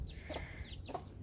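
A hen and her chicks in a backyard vegetable patch by a fence give soft, repeated clucks and faint chirps, fairly close, with no talk.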